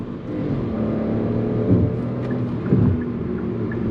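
A 2023 Hyundai HB20S 1.0 turbo engine hums steadily from inside the cabin, its pitch swelling twice as it accelerates and moves through gear changes.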